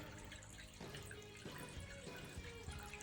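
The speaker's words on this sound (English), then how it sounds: "we turn on the drain and the water comes out" Water draining from a portable compact twin tub washing machine, a faint, steady trickling and splashing flow with a few soft gurgles and drips, heard close and alone.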